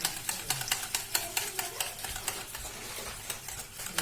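Two eggs are beaten into melted jaggery with quick, rhythmic tapping and scraping of a utensil against a bowl, a steady run of light, close clicks with no voices.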